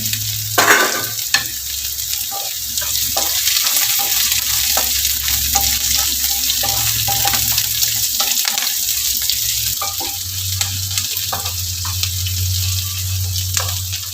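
Onions and curry leaves sizzle and fry in hot oil in a pan for rava kichadi, a steady crackling hiss with occasional scrapes and clinks of a stirring spoon throughout.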